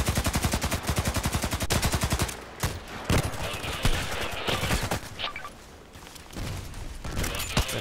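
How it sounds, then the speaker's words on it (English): Gunfire in the shooter Contract Wars: rapid, loud automatic bursts open the scene, then irregular single shots and short volleys follow, some near and some farther off, with no talking. "Why is he shooting at me?"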